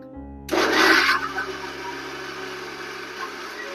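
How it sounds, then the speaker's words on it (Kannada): A kitchen mixer grinder whirs up suddenly while blending a fig (anjeer) milkshake with milk, a loud harsh burst that settles into a steadier, lower motor drone. "ಈಗ ಮಿಕ್ಸಿ ಮಾಡ್ತಾ ಇದ್ದೀನಿ"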